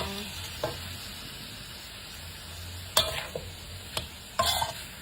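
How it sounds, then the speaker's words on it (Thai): Pork belly and bamboo shoots simmer in a pot, giving a steady bubbling hiss with a few louder clinks and stirring knocks near the end, and no voices. "จะเคี่ยวหมูไปสักพักหนึ่งก่อน"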